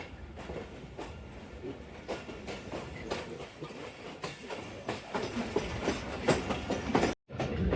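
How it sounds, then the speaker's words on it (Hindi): A Narowal passenger train on Pakistan Railways pulls slowly out of platform 9 over a crossover onto the up main line. Its wheels clack rhythmically and steadily over rail joints for several seconds, close and continuous, with no talking. "फ़िलहाल हम 9 नंबर प्लेटफॉर्म से डिपार्चर करने के बाद स्लोली क्रॉस ओवर के ज़रिए जा रहे हैं ML1 अप लाइन पर"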